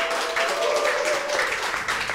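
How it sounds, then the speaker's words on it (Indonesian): Applause from a studio audience during a talk show with Jakarta's deputy governor Rano Karno, a steady wash of clapping filling the whole moment with no voice over it. "Tepuk tangan dulu, luar biasa."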